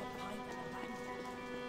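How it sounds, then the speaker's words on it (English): Rain falls in the video game Alice: Madness Returns as a dense, even patter, soft and continuous under a faint tonal game hum. "I like rain in video games"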